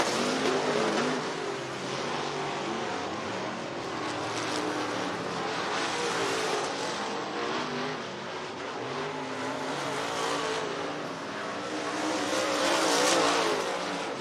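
Sprint cars racing at Southern Oregon Speedway during a Western Sprint Tour event, a steady loud roar of engines from the pack, swelling as cars pass and staying dense throughout, with no talk.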